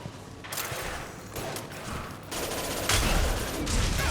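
Mass Effect 2 combat: dense bursts of gunfire crackle in overlapping volleys, with a heavier blast near the three-second mark that fits a grenade, and the fire keeps rattling to the end with no talk.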